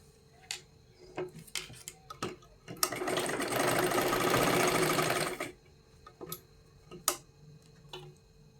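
Sewing machine stitching a katori blouse, a steady whirring run of a few seconds in the middle, framed by scattered clicks and handling taps, close and fairly quiet.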